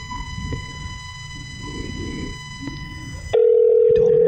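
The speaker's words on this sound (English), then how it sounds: "It's still ringing." A steady electronic ring tone buzzes under background rumble, then cuts to a loud continuous tone, like a phone line ringing then connecting.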